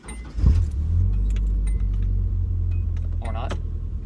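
A Nissan 240SX with a loose ignition switch being turned back on, a low engine rumble starting and running steadily at close range with brief metallic key jingles and a faint voice nearby.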